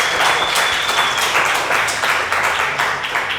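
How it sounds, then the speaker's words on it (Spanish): Applause and clapping from a gathered group cheering for the Tri-Run Bogotá triathlon team, a dense, steady patter of many hands lasting a few seconds, close and fairly loud with no one speaking. "Un aplauso de Tri-Run."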